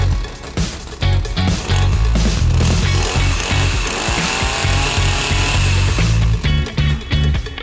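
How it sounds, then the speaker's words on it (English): A Ryobi chainsaw runs loud and close, its engine revving and settling in uneven surges with brief dips throughout, and no voices are heard. "Disengage the choke and pull the starter rope again. The chainsaw should start right away."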